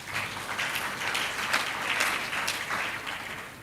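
Audience applause welcoming the Ford Foundation West Africa regional director at a panel on climate and resilience in extractive communities, a steady, moderately loud wash of clapping throughout with no talk over it.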